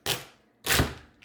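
A knife cuts through a lobster shell in half in a kitchen. Two sharp crunching chops come about half a second apart, close and fairly loud, with no talking.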